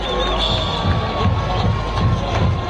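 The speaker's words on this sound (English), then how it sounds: "As you hear the crowd here on the home side, applauding for the Bulldogs as they scored another touchdown" Home crowd at a high school football game roaring for a Bulldogs touchdown, a steady dense wall of cheering and applause with shouts rising and falling throughout.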